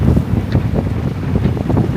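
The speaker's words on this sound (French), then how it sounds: "il y a du vent, il pleut pas trop" Strong wind buffets the microphone on a sailing boat in mild, cool weather, a steady loud rumble with gusty surges and faint water wash underneath, no voices.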